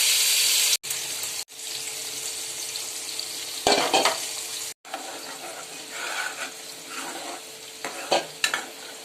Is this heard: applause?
no